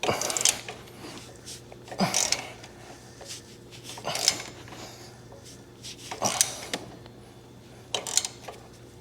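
A wrench cranks a bolt on the upper motor mount of an '89 Harley Ultra Classic bagger engine, braced against the cylinders: repeated ratcheting bursts and metallic clicks come about every two seconds, close by, over a low steady hum.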